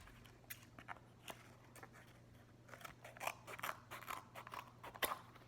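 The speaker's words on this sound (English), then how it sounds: "If you want to like trim it, you can, because the cardboard might be really bad." Scissors trim cardboard to make a small DIY toy bed. Quiet, crisp snips come one at a time at first, then quicken into a busier run of cuts near the end.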